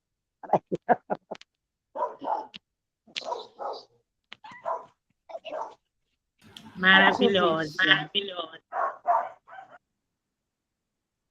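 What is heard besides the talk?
dogs barking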